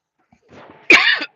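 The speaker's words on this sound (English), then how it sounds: "I hope I didn't cough in your ear" A single sharp cough bursts out close by after a brief breathy sound, followed by the start of another.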